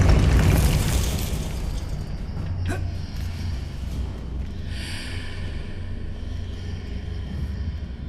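Confringo blasting spell in Hogwarts Legacy bursts into a loud, booming explosion that rumbles low and fades into a sustained roar, followed by a sharp crackle and a hissing shimmer of magical debris.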